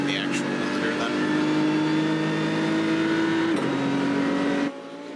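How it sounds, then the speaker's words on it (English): Race car engine in the iRacing simulator held hard against the rev limiter, a loud steady buzzing drone that dips briefly then cuts off abruptly near the end, with voices talking over it. "you're hitting the actual limiter then"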